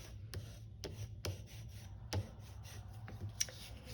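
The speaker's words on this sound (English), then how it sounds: "I'm going to hold it kind of in place here and then use my bone folder" A bone folder rubs and creases folded paper for a corner bookmark, making soft, close scraping strokes with several sharp little taps spread over a few seconds in a quiet room.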